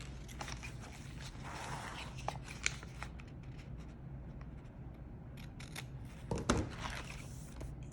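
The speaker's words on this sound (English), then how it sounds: "And I'll just cut it over here." Scissors snip through a paper planner page in a quiet indoor room, a few soft crisp cuts with one sharper, louder snip near the end and no talking.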